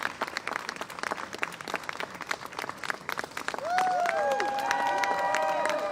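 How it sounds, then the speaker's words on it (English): Street show crowd at Covent Garden, London, clapping in a steady rhythmic beat throughout, with a bright whistle-like tone sweeping in over the last couple of seconds as the claps continue. "Wait for it, keep clapping."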